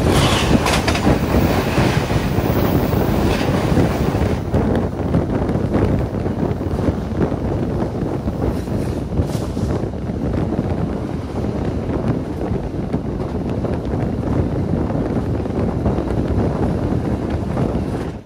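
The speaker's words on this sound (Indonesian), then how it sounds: "Persiapan diberangkatkan kembali dari jalur 1 kereta api Pandalungan dengan tujuan akhir Gambir, Jakarta" Inside the Pandalungan passenger train as it departs Cirebon station bound for Gambir, Jakarta, a loud, continuous rumble of the rolling carriage runs throughout, with wind noise and faint rhythmic rail clatter.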